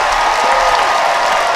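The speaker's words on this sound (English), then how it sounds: "how about a round of applause" A crowd applauds steadily, dense clapping filling the whole moment without pause.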